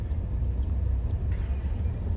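A car moving through heavy traffic, a steady low road rumble and engine drone filling the clip with no voices.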